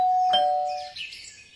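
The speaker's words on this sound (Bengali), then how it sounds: "এমন সময় কলিং বেলটা বেজে উঠল।" A two-tone electronic doorbell chimes once, a clear ding-dong with a bright tone that rings out and fades over about a second, heard alone in a quiet room.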